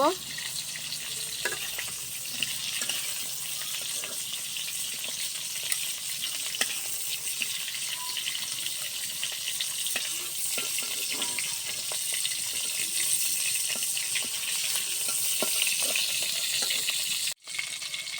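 Fish fry in hot oil in a pan, a continuous bright sizzle and crackle held close and loud throughout, with a short gap near the end.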